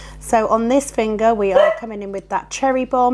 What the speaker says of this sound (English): I apologise for the dogs barking.